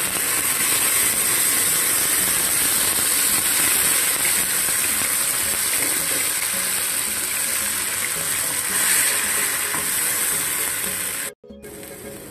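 Masala and onion paste frying in hot oil for beef rendang gives a loud, dense, steady sizzle with a crackling hiss. It runs unbroken and close for the whole stretch, with a brief dropout near the end and no talking.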